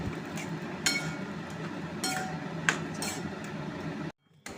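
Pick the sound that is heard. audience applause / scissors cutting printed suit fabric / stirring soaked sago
stirring soaked sago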